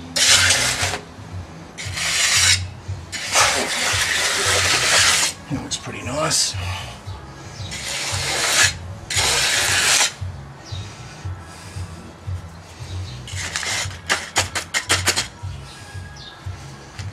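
An edging tool rubs and scrapes along the edge of a concrete slab during a DIY dampness fix, pressing against a moisture barrier; repeated loud rasping strokes of a second or two each come close up, ending in quicker short scrapes.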